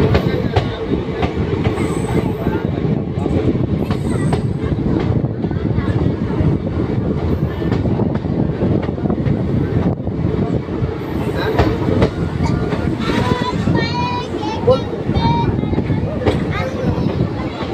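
The 13187 Maa Tara Express on the Kolkata to Tarapith run rolls along its rails with a constant loud rumble and rhythmic wheel clatter, with squealing wheels rising briefly toward the end.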